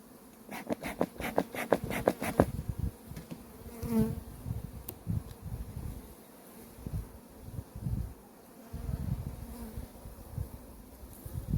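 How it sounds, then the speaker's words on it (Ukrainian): Honey bees buzz over a hive frame in a close, wavering drone, with soft clicks and rustles of handled frames, no talking. "Ось така кількість бджоли"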